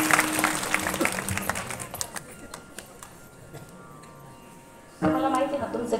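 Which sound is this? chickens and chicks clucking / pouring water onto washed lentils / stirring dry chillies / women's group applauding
women's group applauding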